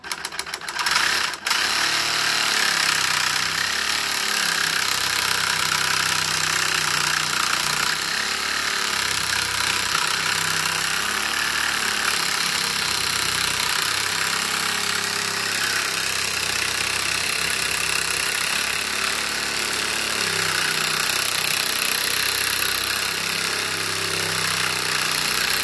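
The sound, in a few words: cutting down a 350 Legend rifle barrel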